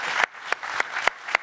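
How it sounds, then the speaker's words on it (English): Audience applause for speakers and panelists at a connected healthcare speaker series event, a brief burst of clapping with several sharper claps standing out near the microphone. "let's give another round of applause to our speakers and panelists"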